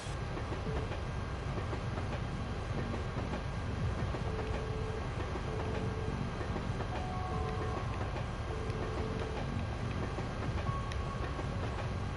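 Steady train rattle with a continuous rumbling clatter in the video game Trails to Azure, running evenly and moderately loud throughout with no talking over it.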